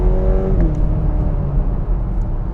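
A 2021 Chevy Camaro 1LS accelerates with a steady, fairly muted engine drone and rushing road noise, the tone sliding briefly at the start before holding even and close.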